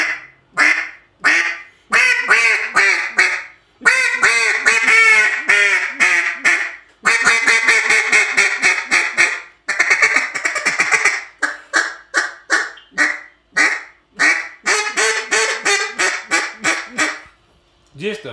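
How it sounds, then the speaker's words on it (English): A duck call with a short barrel and plenty of back pressure is blown in a long run of quacks at medium volume, in varied rhythmic bursts and cadences with short pauses, showing some range in pitch, close and alone without talk. "Lots of back pressure and just a great medium volume call with some"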